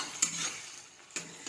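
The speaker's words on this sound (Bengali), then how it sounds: "মশলা কষা চলছে, কালারটা দেখো শুধু বন্ধুরা।" Spice paste for a hilsa mustard curry sizzling in a pan while being stirred, with a few sharp scrapes and clinks of the spoon against the pan over a steady soft frying hiss.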